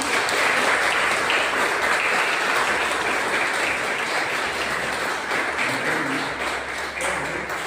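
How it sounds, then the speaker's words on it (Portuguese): A church congregation applauds during a Father's Day service: steady, dense clapping from a large crowd fills the whole stretch, holding constant with little variation. "Uma salva de palmas para Jesus."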